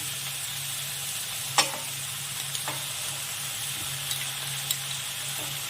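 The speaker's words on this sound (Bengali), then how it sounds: "এবার আমি পোস্ত বাটাটা দিয়ে দিই।" Ridge gourd and potato sizzle in a pan as poppy seed paste goes in, a soft steady frying hiss broken by a few sharp stirring clicks and scrapes, with no talk.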